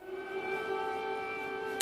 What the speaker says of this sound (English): that air raid siren has been sounding for about a minute now